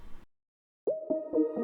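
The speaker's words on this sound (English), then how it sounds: "which I am using as a tape stop effect" Synthesizer tone with a small fade out, played as a tape stop slowdown effect in a pop rock song: a brief burst, a pause, then pulsing pitched notes that swell and sag in a slowed, stretched rhythm.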